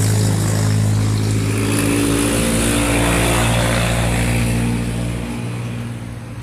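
Loud, continuous traffic noise from cars passing on a roadside street, a steady engine drone close by that fades slightly toward the end, with no talking.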